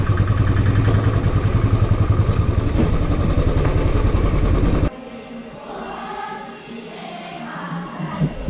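Motorcycle on the streets of Akkalkot, its loud, close, pulsing engine running steadily for several seconds before cutting off abruptly, leaving quieter street ambience with faint scattered sounds.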